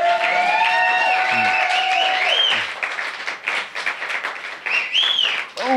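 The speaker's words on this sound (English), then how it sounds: "Big round of applause for Mr." A comedy showcase audience in Reno claps steadily and warmly for several seconds, a full room of applause with a few faint voices and whoops mixed in.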